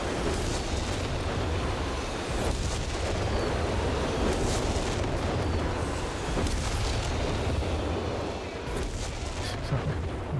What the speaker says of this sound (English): incendiary rocket barrage, so it should be like incredibly good against heavy tanks